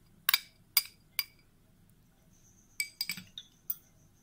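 A spoon clinking against a bowl while Russian salad is mixed, a few sharp separate metallic taps, a pause, then another quick cluster of clinks, close and clear.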